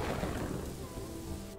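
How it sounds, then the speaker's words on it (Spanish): Steady rain falls in the Kingdoms and Castles village-building game, a continuous broadband hiss with a faint low rumble throughout, with no voices over it. "los peces se han metido bajo el agua por la lluvia"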